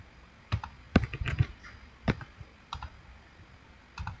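Keys clatter on a computer keyboard, a string of sharp, close clicks in irregular bursts that include presses of the Enter key, heard alone with no talking.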